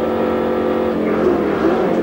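Onboard engine roar from Dick Johnson's touring car at the 1986 Australian Touring Car Championship, Amaroo Park, chasing George Fury's Nissan Skyline uphill: a loud, steady high-revving drone with rising harmonics throughout.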